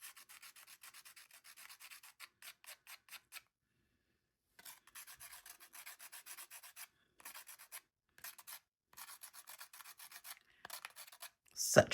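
Sandpaper rubbing across a watercolor painting on paper in quick, close, rhythmic rasping strokes, broken by short pauses, with a brief louder scrape at the end.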